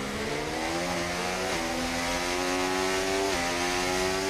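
Mercedes F1 W15 race car in the F1 24 game at Melbourne, engine wailing steadily as it accelerates, pitch climbing through two quick upshifts, loud and continuous with no talk.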